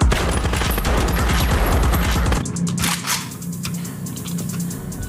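Rapid automatic gunfire rattles in a dense continuous burst for a couple of seconds, then gives way to scattered cracks and booms, bullets fired during an action film shootout.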